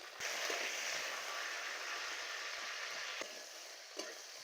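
Broad beans frying with a pinch of salt in hot oil in a wok, a steady soft sizzle throughout with a couple of faint stirring knocks.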